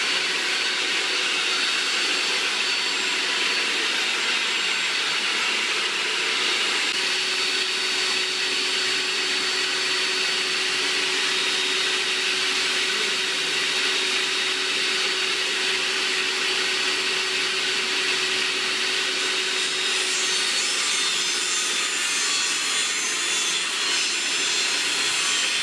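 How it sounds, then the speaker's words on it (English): A power tool cuts the sides off an Epiphone Les Paul guitar headstock, making a loud, steady, close whine and rasp of blade through wood that holds for about 26 seconds, with no talking. "you just saw the video of chopping off the headstock sides"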